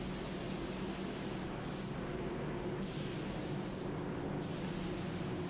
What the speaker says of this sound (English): Light coat first, then come back over it with a slightly wetter